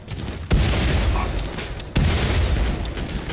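A turret explodes in the RimWorld video game as two sharp, booming blasts about a second and a half apart, each with a rumbling tail that rings out.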